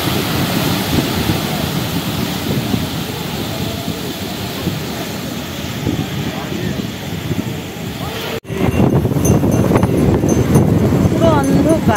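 Sea waves wash onto a beach at night, a steady broadband roar of surf that continues throughout, briefly cut near the end and then resuming with faint voices in the background.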